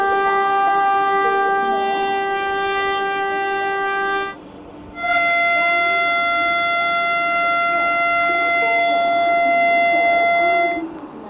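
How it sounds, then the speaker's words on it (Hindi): A Vande Bharat Express train horn in Train Simulator Classic sounds two long steady chord blasts with a brief gap between them, loud and sustained over a low rumble of the train. "और चलो मैं हॉर्न बजाता हूँ।"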